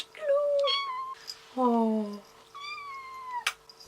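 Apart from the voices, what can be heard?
cat meowing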